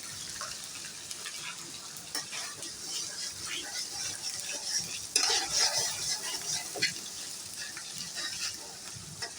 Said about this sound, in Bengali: সরষে বাটা আর জিরা বাটা দিয়ে আমি ভালো করে কষাই নিব